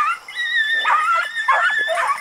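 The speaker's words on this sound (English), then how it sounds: "it sounds like there's a war going on with all these beagles" A pack of beagle hounds bays and yelps while running a rabbit outdoors, the overlapping high cries loud and continuous through the short stretch.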